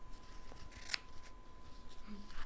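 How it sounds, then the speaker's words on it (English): Ambidextrous sewing scissors snip once in a dressmaking demonstration, a single crisp close cut standing out against a quiet room with faint background rustle. "Ambidextrous scissors."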